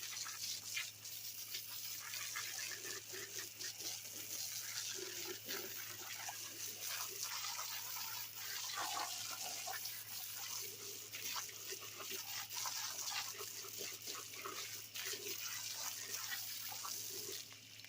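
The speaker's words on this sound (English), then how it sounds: "To just get a little spraying down, just to cool the meat down with some nice cold well water." Cold well water sprays steadily over freshly skinned goat meat, a continuous hissing wash with a low steady hum beneath it that lasts the whole stretch without any talk.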